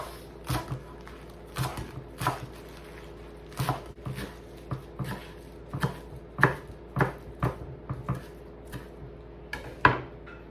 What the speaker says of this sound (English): So just cut the mustard greens into small pieces.